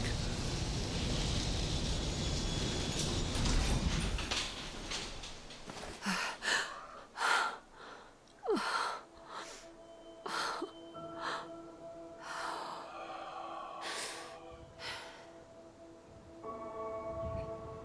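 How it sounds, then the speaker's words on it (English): Heavy, ragged breathing and gasps from a character in the video game Fallout 4, loud and close at first, then broken into separate sharp breaths over quiet game ambience. "The heavy breathing."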